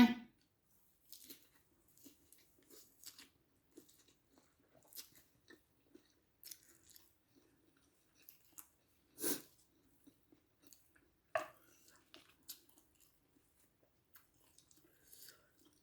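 Someone eating rice with boiled egg and chili dip makes soft, close, intermittent chewing and biting sounds, scattered over quiet pauses, with a few faint mouth noises.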